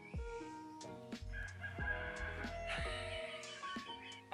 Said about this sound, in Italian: Com'è che il gallo canta a quest'ora?